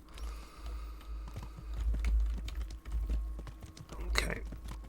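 Horse hooves clip-clop in the video game Kingdom Come: Deliverance, a steady irregular trot of soft knocks over low rumble and a faint background hum, with one sharper bump near the end.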